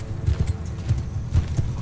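Horse archers galloping in Mount & Blade II: Bannerlord, a steady muffled drumming of many hooves with a low rumble, moderately loud and continuous, without speech.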